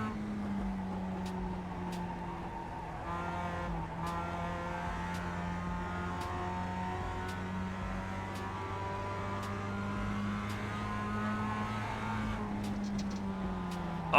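Race car engines in iRacing or Assetto Corsa drone steadily at high revs, layered and sustained throughout with pitch shifting as gears change and other cars run close by.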